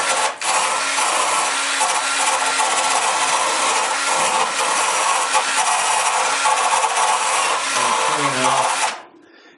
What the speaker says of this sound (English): So I'll just take my wire brush here